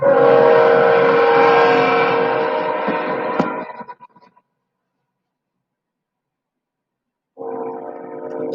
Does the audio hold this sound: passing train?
yes